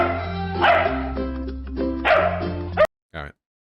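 Two bursts of barking from massive, full-grown dogs, each loud, close and harmonic, with a short yelp after a brief silence near the end.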